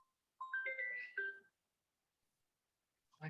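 A short electronic phone ringtone plays one melodic burst of bright tones, fairly faint and alone, then stops before a brief sound at the end.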